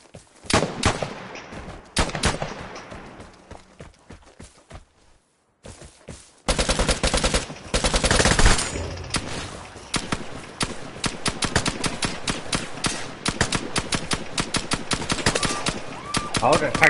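Rapid bursts of MG machine-gun fire in the game Vigor, loud and close, with sustained rattling volleys after a brief pause and a few short gaps between strings of shots.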